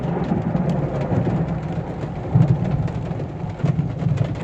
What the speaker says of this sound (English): We're under a severe thunderstorm watch and warning